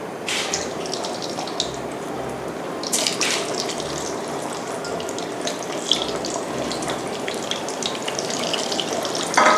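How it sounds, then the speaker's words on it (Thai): Shrimp wrapped around sugarcane deep-fry in hot oil, a dense, continuous crackling sizzle with scattered sharper pops, steady and close throughout. "จากนี้ก็แค่นำลงทอดนะคะ ให้สีเหลืองทองเท่านั้นค่ะ"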